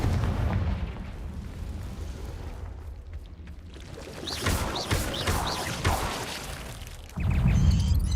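Confringo fire spell exploding in Hogwarts Legacy, a loud booming blast with crackling debris rumbling over several seconds, followed by a renewed low roar near the end.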